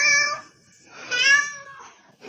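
A talkative cat meows nearby in two distinct calls, the second longer and rising, followed by a brief start of another sound at the end.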